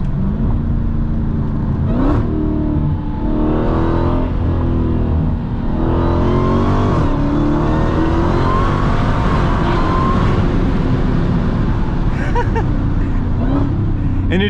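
A Dodge SuperStock Redeye Widebody accelerates hard in track mode, its supercharged engine roaring loud and close with rising pitch through gear changes, with a brief voice under the noise.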